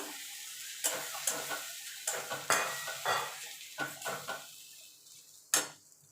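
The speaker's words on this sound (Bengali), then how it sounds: "নারকেলটা একটু ভাজা ভাজা হয়ে গেছে" Grated coconut fries in a pan for a vegetarian stuffed pointed gourd dish, heard as a soft sizzle under repeated scraping strokes of a spatula, about a dozen close, uneven stirring scrapes with one sharp knock near the end.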